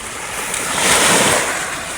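Sea waves at high tide roll in near a small boat, a broad rushing wash that swells and recedes, loud and close with wind buffeting the microphone.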